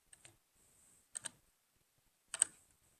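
Computer keyboard keys are pressed one at a time, giving three separate pairs of sharp clicks spaced about a second apart, close and quiet with no talk.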